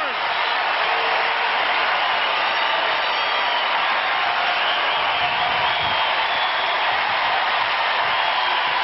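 A tennis crowd at the 2002 Houston final between Roddick and Sampras roars and applauds in a dense, sustained wash of noise that holds steady throughout, with faint voices underneath.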